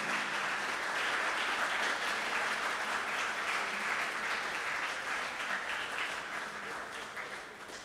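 An audience at a televised school competition final applauds the participating schools, producing a dense, steady roar of clapping that holds evenly for several seconds and fades slightly at the end.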